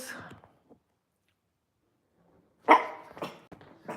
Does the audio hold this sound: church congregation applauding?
no